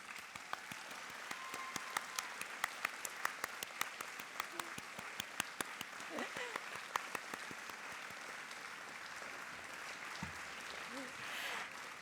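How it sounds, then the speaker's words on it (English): Warm applause from a graduation ceremony audience honoring others in the room, a steady dense patter of many hands with some sharper individual claps standing out, continuing throughout with faint voices beneath. "extend a warm round of applause"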